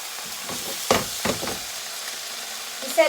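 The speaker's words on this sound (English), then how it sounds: "So let's put the pork chops in because the oil is all heated. It's sizzly hot." Pork chops going into a pan of hot oil: a few bursts of sizzle and clatter as they land, then a low steady frying hiss, close.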